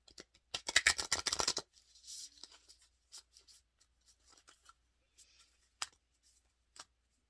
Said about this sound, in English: as we go ahead and shuffle the cards of